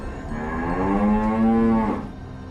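A single cow lets out a long, steady, droning moo among a herd of cattle, close and loud, fading out after about two seconds.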